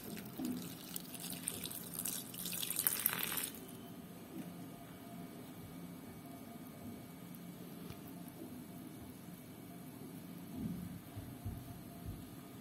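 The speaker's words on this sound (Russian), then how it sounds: "Заливаем горячей водой, можно и кипятком заливать" Hot water splashes and pours onto garden soil in a brief burst near the start, then settles into a quiet, damp trickle with faint squishing.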